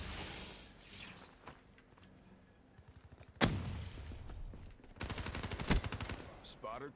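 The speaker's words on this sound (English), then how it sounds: "I fell in love with this dingo. Light machine gun." Dingo light machine gun in Call of Duty: Black Ops 3 firing short rapid bursts at moderate volume, with a sharp single crack partway through and a longer rattling burst near the end over quieter game ambience.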